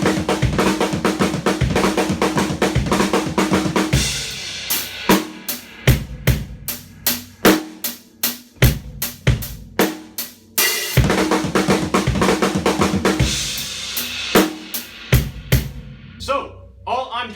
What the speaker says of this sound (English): all I'm doing is taking my 6-beat Hertas phrase with that kick out front, and then I'm just adding a flam accent right after it